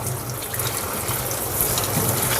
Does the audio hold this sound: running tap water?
yes